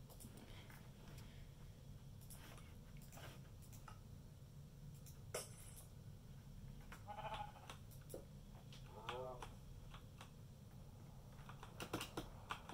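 Quiet tapping of computer keys over a low hum, with a couple of faint sheep bleats from Minecraft mixed in.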